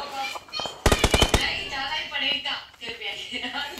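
Gunfire in BGMI / PUBG: a loud, rapid burst of about five automatic shots, with voices in the background.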